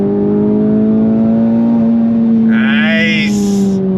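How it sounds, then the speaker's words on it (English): An Acura Integra Type S DE5 pulls hard in third gear with a loud, steady engine drone that climbs gradually in pitch. A brief high, wavering squeal rises over it near the end. "On throttle, here we go. Third gear,"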